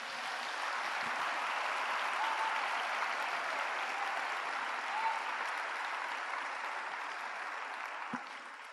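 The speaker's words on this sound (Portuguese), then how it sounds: "Você pode aplaudir a Deus," A church congregation claps and applauds steadily throughout, a dense, sustained wash of hand claps that holds at an even level before tapering slightly near the end.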